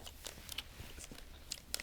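Big League Chew bubble gum is chewed in a big wad, giving soft wet crunches and smacks in an irregular rhythm, close to the mouth and quiet.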